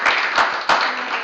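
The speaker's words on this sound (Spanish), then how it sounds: "también le damos un aplauso" A short, dense burst of audience applause at an event, with claps swelling twice in quick succession over about a second.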